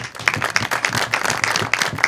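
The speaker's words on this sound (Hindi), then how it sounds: "तो रहमान के लिए तालियां जी" A studio audience at a singing competition show claps in a loud, fairly rhythmic burst with individual sharp hand claps standing out.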